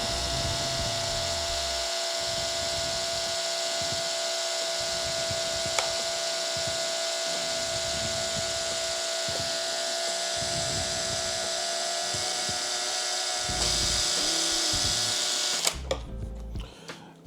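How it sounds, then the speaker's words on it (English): A small drill bit bores into a plastic RC car body for an MJX Hyper Go 14209, a steady high-pitched whine running continuously, with motor tone rising briefly near the end before stopping with a few clicks. "I'm gonna drill in so these will sit in the body."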